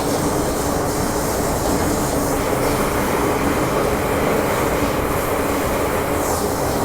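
A Hong Kong MTR Island Line metro train running, a loud, steady rumble and roar of wheels on track filling the whole stretch, heard from inside the car.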